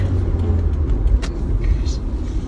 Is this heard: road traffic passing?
yes